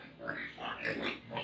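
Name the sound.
live pigs oinking at lechon stock pen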